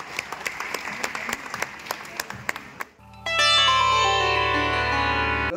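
An audience at a cultural event in Patna claps in scattered, uneven bursts for about three seconds, then gives way to a loud sustained musical tone with no clapping.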